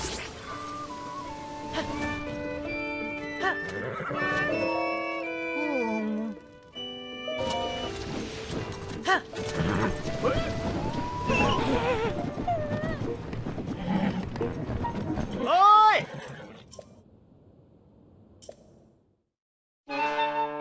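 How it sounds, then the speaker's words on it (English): Horse neighing and clip-clopping hooves in the video game Zelda: Tears of the Kingdom, heard amid game music and effects, with a sharp whinny-like cry near the end before a brief quiet. "Retrieve your trusty horse and towing harness once again."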